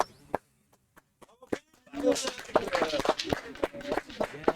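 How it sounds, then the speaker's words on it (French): Clapping breaks out at a pétanque tournament final in Brussels, a short round of applause mixed with nearby chatter and voices after a quieter opening with a few sharp clicks. "Et on peut applaudir"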